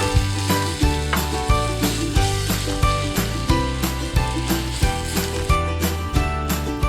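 Okonomiyaki with egg frying in a pan over medium heat, a steady sizzle running under loud rhythmic background music with a regular thumping beat.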